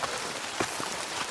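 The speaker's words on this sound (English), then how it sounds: "you can hear the rain in the canopy hitting the leaves" Rain pattering steadily on forest canopy leaves, a dense hiss of drops with a few louder taps, no voices.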